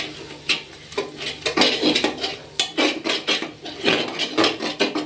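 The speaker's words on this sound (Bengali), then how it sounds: "দেখুন বন্ধুরা তো ভালো করে নেড়ে চেড়ে নিতে হবে।" A spoon scrapes and clatters against a pot while spices for mutton curry are stirred, in irregular close, clear knocks and scrapes lasting a few seconds.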